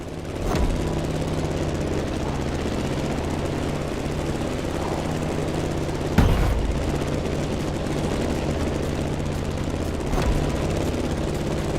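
A propeller plane flies in The Crew Motorfest racing game, its engine droning steadily and loud throughout, with a few sharp thumps breaking through the continuous buzz.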